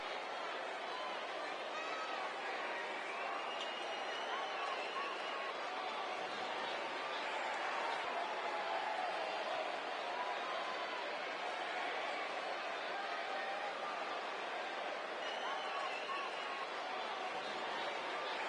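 A large crowd roars steadily throughout at a wrestling pay-per-view event, a dense continuous wash of cheering and chatter with no clear breaks.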